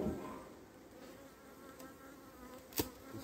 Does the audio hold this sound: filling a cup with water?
no